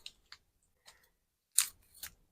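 Scissors snip off small seed heads outdoors during winter sowing, a few faint, crisp cuts spaced irregularly, with two closer, sharper snips near the end.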